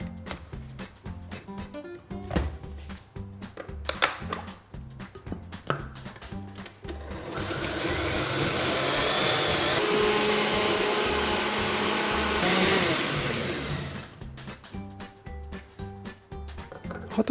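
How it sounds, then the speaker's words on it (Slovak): A blender whirs steadily at high speed for several seconds while blending pumpkin soup, with clattering kitchen sounds and handling noises before and after the motor runs. "a budem mixovať na vysokých otáčkach"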